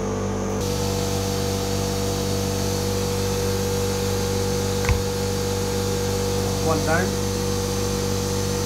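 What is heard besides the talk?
compressed air gun blowing out brake caliper pistons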